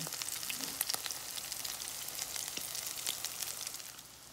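Low-carb tuna cakes frying in a pan over medium-high heat, giving a continuous close sizzle with scattered crackles and pops throughout, heard alone without talking.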